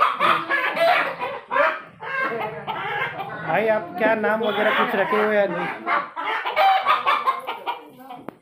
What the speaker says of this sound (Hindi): ये माशाल्लाह भाई के मुर्गे वगैरह है, आवाज़ कर रहे हैं।